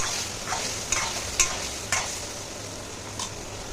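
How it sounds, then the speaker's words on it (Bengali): Spice masala of ginger, garlic, onion and tomato frying in a pan while being stirred, a steady soft sizzle broken by a few sharp scraping strokes of the spoon, close and alone. "এবার ভালো করে মশলাটা কষিয়ে নেব।"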